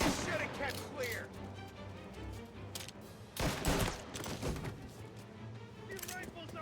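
Rifle gunfire in the Mafia video game, a rapid series of sharp shots and crashing bursts spread through the clip with background battle noise and shouting voices.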